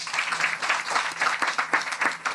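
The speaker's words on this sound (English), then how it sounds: "I think they deserve a big round of applause." Temple audience at a Ramayan Yajna applauding, brief steady clapping from a modest crowd with individual claps audible in a loose rhythm.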